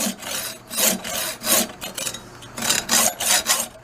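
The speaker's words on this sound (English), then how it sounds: "Sure, I'm cutting a little bitty piece." A folding saw cuts a small piece of brass with rhythmic back-and-forth rasping strokes. About ten close, steady strokes follow one another with no talk over them.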